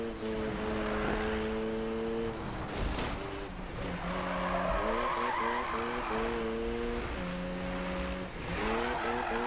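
Tires skid and squeal as a car drifts in the 2015 Need for Speed game, engine tone rising and falling through repeated slides, loud and sustained over nearly ten seconds.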